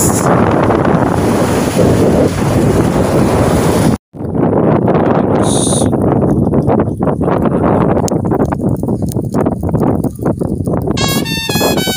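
Strong beach wind buffets the microphone in a continuous loud roar, with surf-like rushing and a brief dropout partway through.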